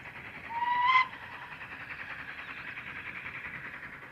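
A coal tank steam locomotive hauling a passenger train gives a short, loud whistle blast near the start, then settles into a steady rumble of the moving train at moderate distance.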